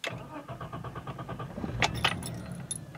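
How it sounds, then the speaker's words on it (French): Keys jangle in the ignition of a BMW E34 with a faulty idle actuator, then the engine cranks and catches with a short burst of noise, heard close up from inside the car. "je mets le contact, et vous allez voir un peu ce que ça procure comme symptômes"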